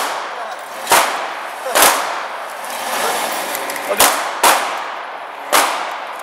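Five sharp gunshots crack at an outdoor range, fired at a target with irregular gaps and one quick pair, each loud and close against a quiet background.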